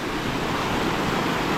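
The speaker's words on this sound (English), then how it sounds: "Continuing on, yet another quite impressive waterfall." An impressive waterfall along an overgrown hiking trail gives off a dense, steady roar of rushing water, broad and constant, heard alone at moderate loudness.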